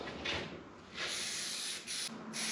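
Spray adhesive hisses from an aerosol can in a few short bursts while parts are glued together during a WWII half-track build, the bursts soft and close with brief pauses between them.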